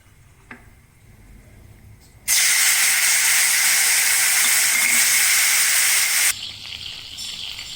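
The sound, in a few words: tamarind water poured into hot tempering, sizzling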